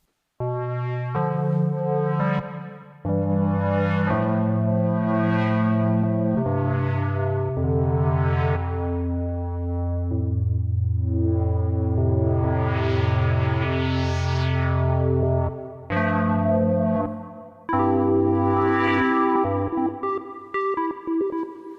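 A sustained instrument plays a slow sequence of held tones drenched in reverb, each note swelling and trailing into the next, with brief pauses between phrases.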